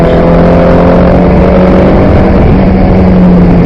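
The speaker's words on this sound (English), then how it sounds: "being lapped by the third place car, Paul Dobson, in that Mazda RX-7." A Mazda RX-7 race car howls around Pembrey circuit during a Classic Thunder race, a very loud sustained engine drone close by that holds steady without pause.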